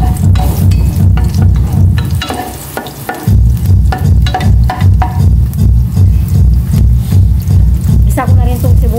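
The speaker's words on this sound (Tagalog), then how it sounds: "Magigisa na po ako ng bawang" Garlic sautéing in a pan with loud, steady sizzling and stirring scrapes throughout, briefly dipping in the middle, with a person talking over it.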